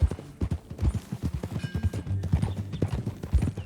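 Horse hooves clip-clopping at a steady riding pace in the video game Red Dead Redemption 2, close and continuous for the whole stretch, with a brief whinny-like tone and faint background sounds.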